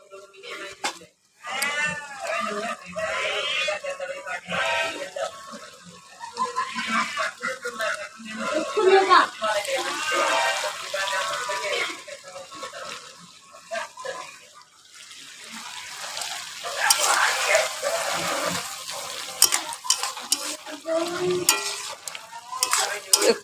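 Fish added to a pan of chachchari curry in a home kitchen, sizzling and frying with stirring clatter, moderately close, while someone talks over much of it.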